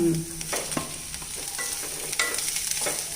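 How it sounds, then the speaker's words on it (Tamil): Potatoes sautéing in a pan with green chillies, an even sizzle under repeated spoon scrapes and stirring clatter, close and moderately loud. "உருளைக்கிழங்கு போட்டு வதக்கி"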